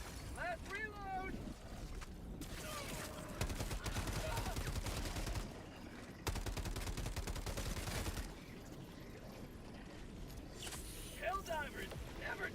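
Heavy gunfire from the video game Helldivers, with sustained bursts of rapid shots and explosive blasts filling most of the stretch, pausing briefly between volleys, while voices and game chatter talk over it.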